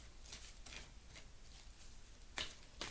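Quiet riffling of tarot cards, a few soft papery bursts, with a sharper snap near the end.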